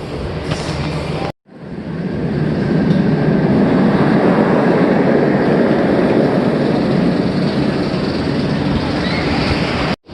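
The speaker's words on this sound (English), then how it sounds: "We have a beautiful B&M Floorless coaster train." A B&M floorless roller coaster train, Firebird at Six Flags America, roars loudly and continuously along the track with rushing wind and rattling, after a brief cut near the start.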